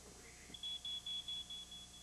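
A series of short, high-pitched electronic beeps from a smoke detector, about six evenly spaced chirps, fairly quiet against a faint background hum.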